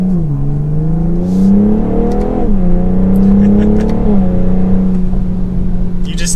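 A 2022 BMW M440i Coupe engine revs up hard and climbs in pitch through gear changes, loud and close, steady droning throughout.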